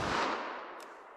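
A single .22 Magnum round fired into ballistic gel, the shot's echo decaying over about a second, moderately loud with no talk.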